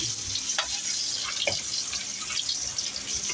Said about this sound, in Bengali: আমাদের এখন ডিম ভাজা হচ্ছে।